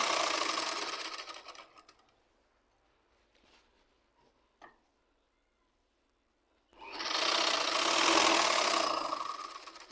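A sewing machine stitches saree falls in two close, steady bursts of rapid mechanical whirring, separated by a quiet stretch with a few faint clicks.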